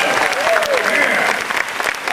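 Enthusiastic audience applause for a rock band at a stage show, a dense steady roar of clapping with voices and cheers mixed in.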